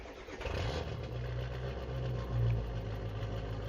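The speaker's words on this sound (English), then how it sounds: "I like his truck, it's just really loud." Ford XLT Super Duty truck engine in Farming Simulator 22, a loud steady low rumble with a rising rev swell midway, running alone with no talk.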